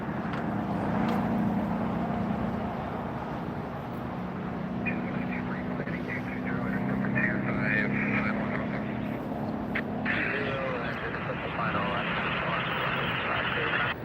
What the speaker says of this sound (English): Japan Airlines taxiing.